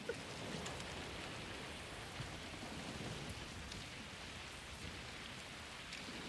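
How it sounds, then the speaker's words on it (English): Steady, dense hiss of heavy rain falling in a video game, broadband and constant for the whole stretch, with occasional soft low rumbles like distant thunder and no talking. "Oh no, it's raining again."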